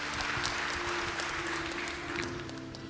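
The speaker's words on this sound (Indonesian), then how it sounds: "Mau tepuk tangan buat Yesus kita." Church congregation clapping for Jesus mid-sermon, a short burst of dense applause with a steady tone humming beneath it.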